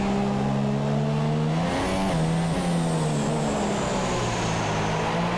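An F1 race car engine in the F1 2017 video game at the Abu Dhabi Grand Prix screams at high revs, its pitch dipping and climbing through gear changes as it holds a loud, continuous whine.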